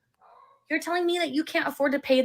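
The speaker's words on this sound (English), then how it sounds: "I think that was a dog in the background" A brief, faint dog bark sounds in the background, and then someone talks over the rest of the clip.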